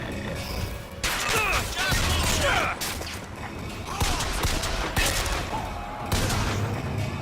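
Gunfire and headshot impacts in BioShock Infinite: repeated sharp shots and crunching hits in several bursts, loud and close, with gaps between volleys.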